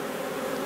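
Honey bees drone steadily around hive frames as the frames are cleared of bees so the honey supers can be taken for extraction; the buzzing is close, continuous and even throughout.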